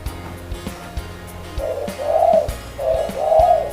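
A dove coos in two rounded, throaty phrases close by, repeating after a short pause over faint background noise.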